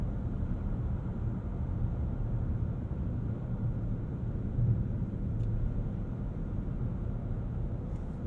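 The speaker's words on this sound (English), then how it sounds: "At highway speeds, the wind, tire, and road noise are all contained." Inside a 2023 Alpina XB7 at highway speed, a steady, muted low rumble of wind, tire and road noise fills the cabin with no voices.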